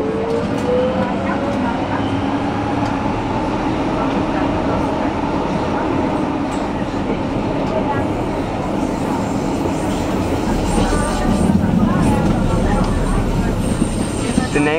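A Berlin U-Bahn train runs along the original 1890s railway line near Gleisdreieck, a continuous loud rumble and rattle of wheels on track with steady motor hum, close and sustained.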